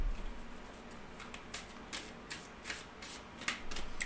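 An oracle card deck is shuffled by hand, giving a quick series of soft riffling and slapping bursts close by, fairly quiet, with no talking.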